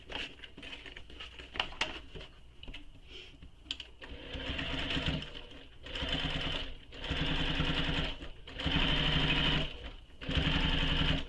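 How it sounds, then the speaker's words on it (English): A sewing machine topstitches through a pocket contrast in several runs of a few seconds each, its rapid patter stopping and starting close by, with handling noise between the bursts. "we're going to top stitch through the pocket contrast using the seam allowance she gives in the pattern"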